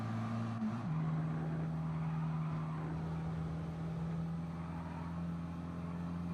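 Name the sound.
race car engine at full throttle, from video game Gran Turismo Sport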